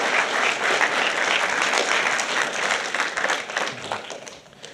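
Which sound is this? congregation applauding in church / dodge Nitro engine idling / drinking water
congregation applauding in church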